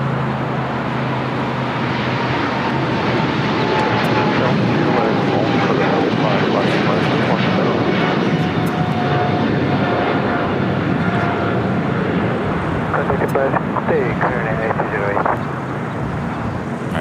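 Lufthansa Airbus A380 taxiing at LAX as it turns left onto a taxiway, a steady broadband jet engine roar with a faint whine, continuous and fairly close, with a voice talking over it.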